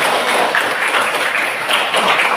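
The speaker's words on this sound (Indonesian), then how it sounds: "Lihat, tepuk tangan semua orang." A classroom full of people claps together, loud, fast and continuous, a brief burst of lively applause.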